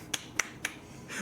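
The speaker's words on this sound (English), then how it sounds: "what's this clapping sound I'm hearing from the other room?" Sharp clapping coming from another room in the Alan Wake video game: three crisp, evenly spaced claps, bright and clear with no voices, followed by a rising hiss.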